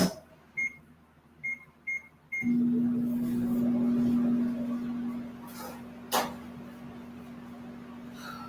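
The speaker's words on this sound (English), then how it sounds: "Might hear my microwave go off for a minute." Home microwave oven keypad beeping, four short high beeps spaced apart, then the oven starts running with a steady low hum, followed by a brief clunk near the end.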